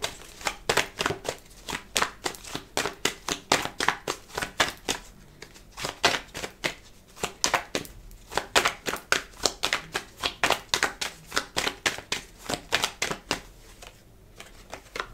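Tarot cards being shuffled and drawn close up, a long rhythmic series of crisp card slaps and riffles that falls into a steady beat, with no voice heard.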